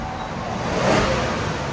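A 2018 Genesis G80 with a 3.3L twin-turbo V6 on its stock exhaust revs softly, a subdued, even engine hum that swells slightly midway and stays muted throughout.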